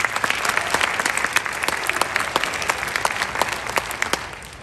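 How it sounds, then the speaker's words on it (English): Dense audience applause during a school symphonic band and wind ensemble spring concert, many hands clapping steadily with distinct sharp claps standing out, loud and continuous without talk. "So round of applause."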